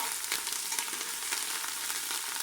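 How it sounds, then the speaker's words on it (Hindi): Ginger garlic paste fries in hot oil in a pan for a beef yakhni pulao, giving a continuous, fairly soft sizzle with faint crackles throughout. "अब हमने इसमें डाल दिया है अदरक लहसुन। ये देखें अदरक लहसुन का पेस्ट, इसको भी हमने ब्राउन करना है।"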